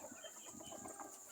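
Backyard chickens on an open-range farm cluck faintly and briefly at a distance under a steady hiss of outdoor noise.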